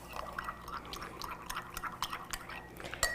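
A spoon stirring tea in a glass, giving a run of quick, light clinks and soft liquid swishes at an irregular rhythm, close and fairly quiet, with one sharper tap near the end and no talking.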